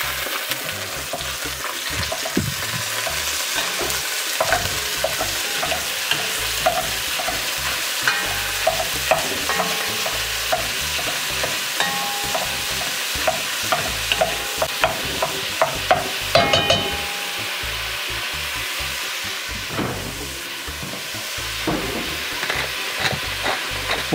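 Ground beef fries in a Dutch oven, a continuous loud sizzle with frequent clicks and scraping as a tool breaks up and stirs the meat, close-up with no talking.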